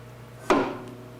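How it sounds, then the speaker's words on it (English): The ram of a power hammer falls once after the hammer is switched off, landing with a single sharp metallic thud that rings out briefly over a steady machine hum in a workshop. "You come back around and turn the hammer off and make sure that the ram falls."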